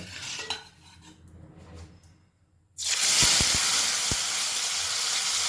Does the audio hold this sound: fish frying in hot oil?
yes